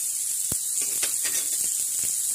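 Ginger tossed into potatoes frying in a pan over a medium flame gives a steady, close sizzle with faint scattered crackles and a soft stirring tap, with no voice present.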